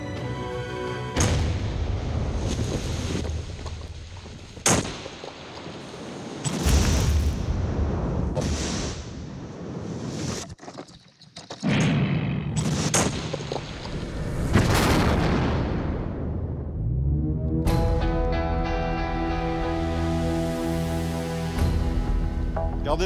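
A demolition charge blows up an illegal mine trench in the tropical mountains of French Guiana. Several loud, deep booms arrive spaced seconds apart, each with a rumbling tail, followed by a quieter stretch.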